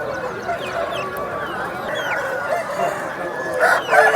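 A year-old rooster at a busy poultry market crows over background chatter and scattered bird calls, the crow rising loud and close toward the end.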